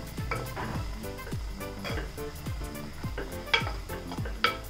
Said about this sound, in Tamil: இது கிளறி விட்டுடலாம்.